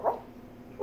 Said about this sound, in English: What's a puppy dog say?